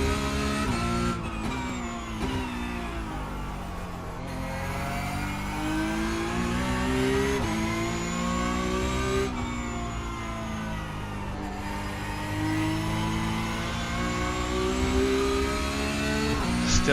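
Porsche Cup race car in iRacing, its engine revving hard and climbing through the gears with brief dips at each shift and under braking, a loud continuous howl with no talk over it.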